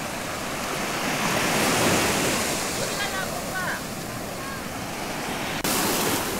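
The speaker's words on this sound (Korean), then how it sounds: "잠시 동안 동해 바다의 시원한 파도 소리를 들어보도록 하겠습니다." East Sea surf rolling onto the rocky beach at Hwajinpo, a steady, full wash of breaking waves with wind buffeting the microphone and faint distant cries.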